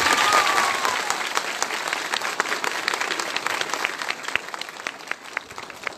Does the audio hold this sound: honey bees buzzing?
no